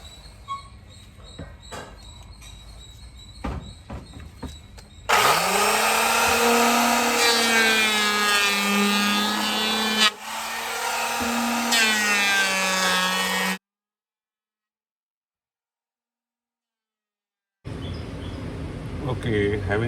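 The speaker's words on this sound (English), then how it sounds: "We'll start with the planing." A wooden base board for a bird feeder is planed by a power planer, a loud, steady whining roar lasting several seconds with a brief dip midway, then cutting off after some quieter handling knocks.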